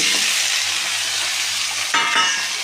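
Potatoes frying in hot oil with ginger and green chillies in a pan for a vegetable curry, a steady loud sizzle with a couple of brief scraping stirs near the end.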